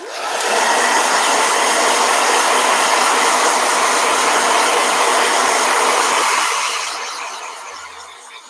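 A blow dryer runs loud and steady close by while drying a watercolor painting, then its airflow tapers off near the end.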